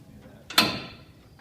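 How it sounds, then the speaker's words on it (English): A side door panel on the bonnet of a portable welding rig shuts with a single sharp metallic clack and a brief rattling ring that fades, heard at moderate distance in a quiet setting. "Phil, go ahead and put the side door down the bonnet."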